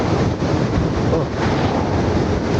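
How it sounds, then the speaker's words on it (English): Wind rushes over the microphone while riding an e-bike into a headwind on a road, a loud, close, unbroken roaring buffet. "I am riding against the wind right now."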